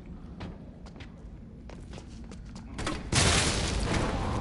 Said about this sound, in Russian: Сейчас мне нужно так выстрелить, чтобы, короче, убило все.